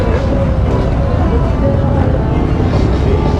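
Loud Harley-Davidson motorcycles rolling together in a parade in Panchkula, a dense, continuous low engine rumble and drone close by, with wind buffeting over it.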